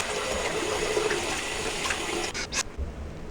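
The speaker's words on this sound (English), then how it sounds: "I'm going to go ahead and fill my sink with water and get started." Tap water runs steadily into a bathroom sink as it fills for a shave, a close, even rushing hiss that ends with a couple of brief splashing changes.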